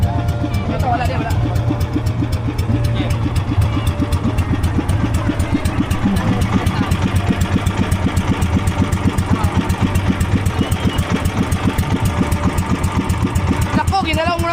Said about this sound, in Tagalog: Nako, ginalaw mo na makina.